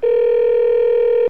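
A single steady electronic telephone tone sounds loud and close, holding one unbroken pitch for about a second before it cuts off abruptly.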